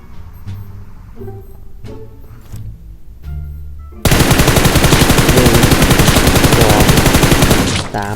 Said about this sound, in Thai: เขาจะขี่รถนะรอให้เขาขึ้นรถทั้ง 4 คนก่อนนะค่อยยิง